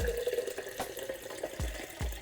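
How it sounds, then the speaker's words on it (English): Juice poured into a jar at home during a one-day juice cleanse, a soft liquid trickle with a few low splashy glugs near the end, close and quiet with no talking. "all I'm gonna do is pour it in the jar"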